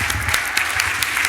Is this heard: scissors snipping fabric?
no